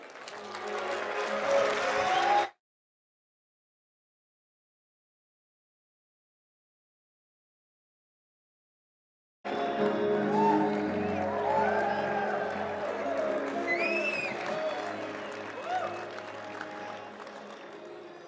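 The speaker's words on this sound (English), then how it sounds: "thanks everyone for the applause" Audience applause at a Barclays conversation event, a sustained crowd clapping wash that breaks off into silence for several seconds and then returns with voices over it.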